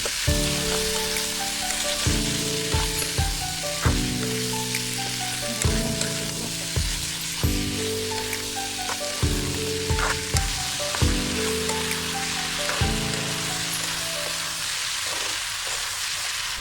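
Chickpeas and chopped tomatoes stirred in a frying pan, a steady close sizzle punctuated by regular spatula scrapes and knocks roughly every two seconds, with no talk.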